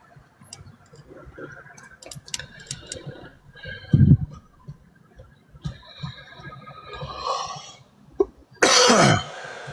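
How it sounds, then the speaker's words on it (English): Several scattered coughs and throat-clearing sounds, close and fairly loud, with a harsh burst near the end and quiet room noise between. "Excuse me for all the coughing today"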